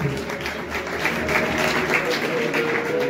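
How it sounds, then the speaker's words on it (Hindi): Audience clapping for a prize-winning pigeon's owner at a flying-pigeon club's award ceremony in Jaranwala, steady and dense for the whole stretch, with faint voices mixed beneath the applause. "अली रजा गुजर साहब के लिए एक दफा तालियां बजाते हैं।"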